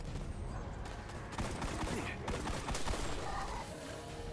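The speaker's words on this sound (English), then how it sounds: "that gun's got a really nice crack to it" Rapid gunfire from a weapon in the video game Destiny: The Taken King, with sharp cracking shots fired in dense, overlapping bursts that continue loudly throughout.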